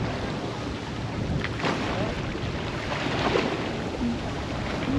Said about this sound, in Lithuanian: Vėjas šiandien didelis labai.